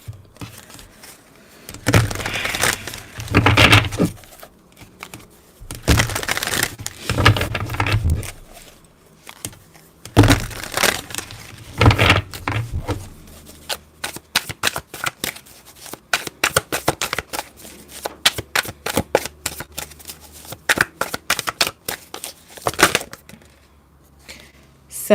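A deck of angel oracle cards is shuffled by hand in several bursts of riffling and flicking, separated by short pauses, with a fast run of crisp card snaps toward the end. The sound is close and clear, with no talk.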